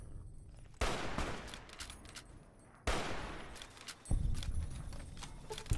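Three heavy sniper rifle shots in Fallout New Vegas, each a sharp crack followed by a long rolling echo that fades before the next, widely spaced and loud.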